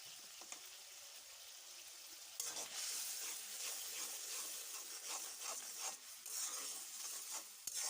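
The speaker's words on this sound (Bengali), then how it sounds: "মশলাটা ভালোভাবে কষিয়ে নিব" Ground spices, including chili powder, being stir-fried in a pan: a constant sizzle with rhythmic scraping strokes of a spatula that grow louder and busier partway through, close and without any talking.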